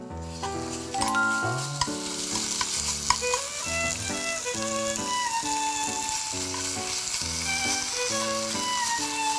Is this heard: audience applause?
no